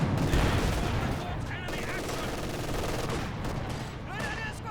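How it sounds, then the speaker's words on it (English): Machine gun bursts rattle in a World War II strategy game, rapid gunfire layered with other battle noise and a voice talking over it, moderately loud and continuous. "Use of the MG covering that point."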